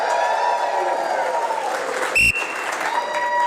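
A crowd at a corporate safety event warmed up by a comedian claps and cheers for a team member, with voices whooping over the clapping and a short sharp electronic tone cutting through near the end.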